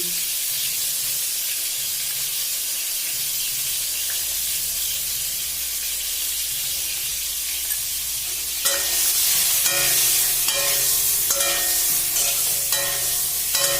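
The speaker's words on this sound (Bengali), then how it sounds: "সুন্দর করে লাল লাল করে ভাজবো" Pointed gourd fries with turmeric in a pan. A steady hiss of frying runs throughout, and partway through it grows louder and crackles, with metallic scrapes and clinks of stirring.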